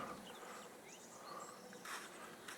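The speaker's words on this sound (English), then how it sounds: "bumblebees and honeybees adore that" Bumblebees and honeybees buzzing around blooming garden flowers, a faint steady outdoor drone with occasional passing buzzes.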